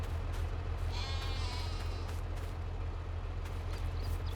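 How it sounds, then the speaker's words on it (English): A sheep in an open pasture in Farming Simulator 22 gives a clear bleat lasting under a second. It sits over a steady low machine hum, with faint clicks scattered around it. "And there's our sheep in the open pasture."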